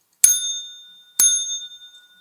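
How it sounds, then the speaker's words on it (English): Two bright metallic strikes on a small bell ring out indoors in celebration, close and loud, each leaving a ringing tone that fades, about a second apart. "we're ringing the bell for Carly in-house"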